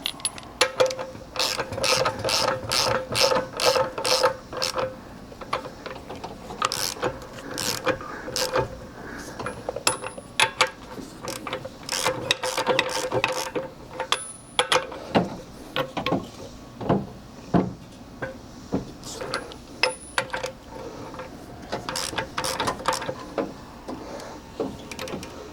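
Hand ratchet clicking while tightening the lower ball joint nut on a Dana 30 front axle of a 1976 Jeep CJ-5, rapid runs of close, crisp pawl clicks repeating in bursts with short pauses.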